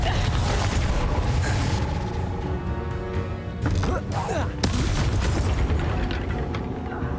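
A Confringo blasting curse explodes in Hogwarts Legacy combat, a dense low boom with crackling debris amid continuous game noise and brief sharp bursts.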